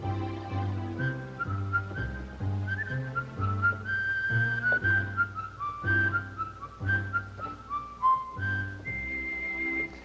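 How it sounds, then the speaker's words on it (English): A bright whistle voice on a Technics electronic organ plays a sustained melody over a steady chordal accompaniment, clear and fairly loud. "here's a whistle"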